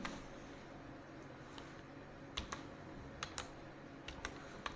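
Keys tapped on a computer keyboard while typing a word into an Excel cell, a handful of sparse light clicks in small clusters over a steady room hiss, quiet and close, with no talking.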